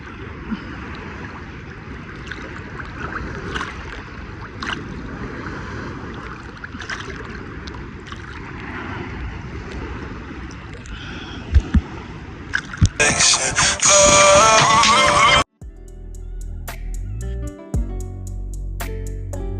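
Sea waves rolling in with a strong current at Saadiyat beach in Abu Dhabi, a steady broad wash of surf that runs continuously, turns louder and harsher near the end, then gives way to a brief different tonal sound.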